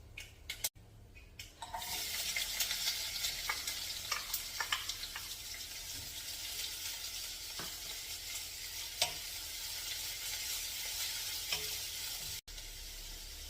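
Onions hit hot oil with cumin seeds and sizzle steadily, a loud crackling hiss with occasional stirring clicks and scrapes in the pan, while making mixed dal fry.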